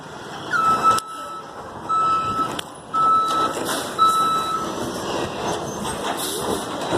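A garbage truck backs up, its reversing alarm giving about four evenly spaced, shrill beeps over low engine and street rumble, with a few sharp clanks in between.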